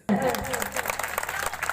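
An audience breaks into applause that starts abruptly and continues as a dense, steady patter of clapping through the short moment, with voices mixed in.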